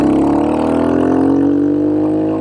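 A Royal Enfield Hunter 350 motorcycle accelerating hard, its single-cylinder exhaust note loud and close, a steady throaty drone rising slightly in pitch through the whole stretch with no voices over it.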